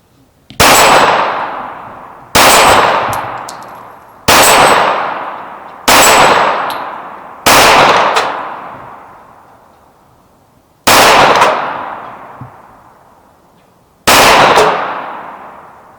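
Shots from a Les Baer custom pistol ringing off steel targets: seven loud, sharp reports, each followed by a metallic clang and a long decaying ring, fired at uneven intervals over several seconds.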